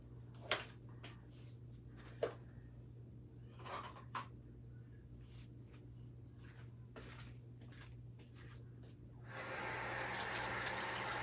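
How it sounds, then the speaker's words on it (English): Near the end, water from a tap rushes in a steady, fairly loud stream, as a cup of water is added to tomato paste. Before it come scattered faint kitchen clicks and knocks. "So I'll add a cup of water to the paste."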